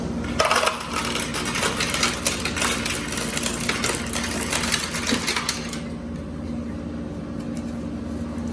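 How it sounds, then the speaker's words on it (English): An office ice machine dispenses ice, a dense clattering rush of cubes tumbling out for about six seconds before stopping, leaving a low steady machine hum. "The ice machine, of course."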